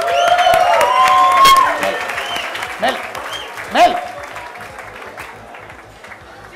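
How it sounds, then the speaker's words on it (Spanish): A live studio audience bursts into applause and cheering, loud at first and then fading, with a host talking over the clapping. "un aplauso a los primeros que llegaron."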